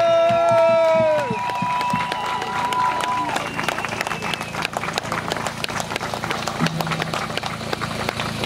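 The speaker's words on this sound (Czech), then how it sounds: "Takže poprosím velký potlesk pro Pame Ostrava." Outdoor crowd at a mountain drift event cheering and clapping in a dense, steady wash of applause, with someone speaking over a loudspeaker at the start.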